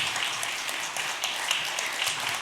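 A church congregation at an ordination service claps together in a steady, moderately distant wash of applause, even and unbroken throughout the short stretch.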